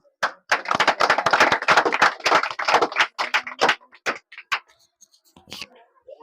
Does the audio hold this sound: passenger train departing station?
no